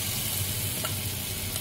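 Potatoes frying in a pan with no onion or garlic, a dense, steady sizzle that fills the whole stretch at close range with only slight flickers in texture and no voices.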